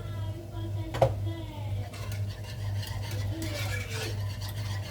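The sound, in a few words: stirring a thickening sauce in a pot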